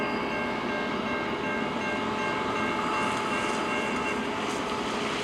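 An eastbound CN train passes near Emmett, Michigan, producing a continuous rumbling roar with sustained tonal whine and a brief horn-like rise toward the end, heard at moderate distance.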